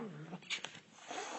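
A cat gives a short close meow or yowl of complaint, with a brief harsher burst in the middle of the sound, heard alone without talk.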